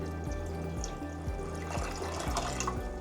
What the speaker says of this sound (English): Fill up this with plenty of water